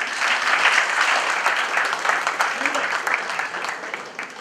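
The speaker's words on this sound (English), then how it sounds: "give the panel a wonderful applause" Sustained applause from an audience at a literature festival panel session in India, steady dense clapping filling the whole stretch at fairly loud level with no talk over it.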